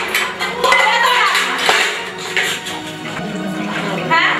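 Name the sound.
dishes, pots and pans clattering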